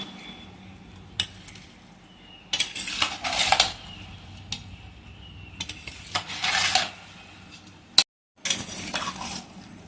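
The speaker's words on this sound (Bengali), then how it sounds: "মশলাটা গরমের কারণে আমি খুন্তি দিয়ে ভালো করে মাখিয়ে নেব।" A metal spatula scrapes and clinks against a pan while lota fish is mixed with hot spices, in irregular bursts of scraping with brief pauses, close and fairly loud.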